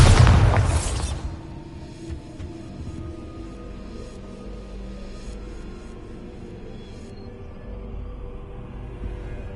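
A booming blast from the Bombarda explosion spell in the video game Hogwarts Legacy opens loud and broad, then decays into a long rumbling, debris-filled tail that fades to a low hum.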